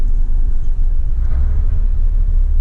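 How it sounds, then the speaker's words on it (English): Engine brake of a Mercedes Actros 2541 truck pulling a trailer on a snowy winter road, a steady deep low rumble with a constant drone and no distinct pauses. "It's an engine brake."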